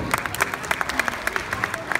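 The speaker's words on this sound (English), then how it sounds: "let's have a big round of applause for Hakone Garden." Audience at a Republic Day community event in Saratoga clapping, a short burst of close, sharp handclaps with a crowd murmur underneath.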